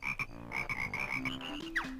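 Frog croaking in the Nintendo 64 game Banjo-Kazooie, played through an emulator: a series of close, loud, game-style croaks over a steady bed of game music, with no talk.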